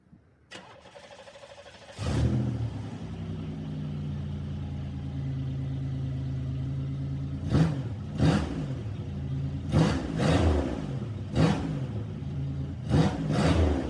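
A car engine, just back from an exhaust repair, cranks and catches after a click, then settles into a steady idle broken by a series of sharp, loud revs spaced through the second half.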